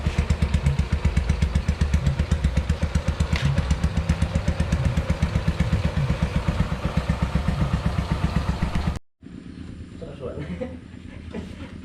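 A motorcycle engine idles loudly close by with a steady rapid chugging, then cuts off abruptly, leaving quieter background noise and faint voices.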